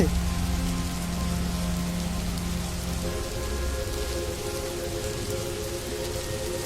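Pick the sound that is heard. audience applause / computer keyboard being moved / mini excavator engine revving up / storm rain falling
storm rain falling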